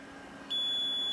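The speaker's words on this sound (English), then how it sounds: "if I put this into diode or into beep mode" A multimeter in continuity mode lets out a loud, steady single beep across a shorted capacitor in a Sony SL-HF600 Super Betamax VCR, starting abruptly partway through after a quiet moment and holding constant to the end.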